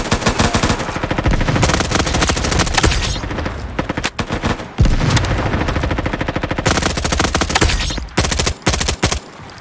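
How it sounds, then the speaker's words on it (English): Rapid submachine gun bursts fire in a first-person shooter game, long sustained automatic strings with brief pauses between them, loud and close throughout. "treating the SMG like it's an assault rifle"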